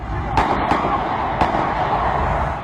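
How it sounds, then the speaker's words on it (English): A few sharp gunshot cracks, distant and echoing, ring out near Britain's parliament over a constant roar of fleeing crowd noise and commotion. "People fleeing as gunshots ring out."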